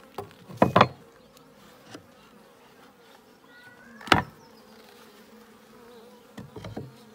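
Honey bees buzz steadily at an open horizontal hive, a continuous insect drone with a few louder bursts as bees fly close past, no talking.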